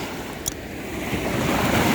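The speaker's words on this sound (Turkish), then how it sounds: "Dalganın sesini dinleyin." Sea waves wash onto a beach as a ship approaches, a continuous roaring surf that swells slightly louder toward the end, mixed with wind buffeting the microphone and a brief knock near the start.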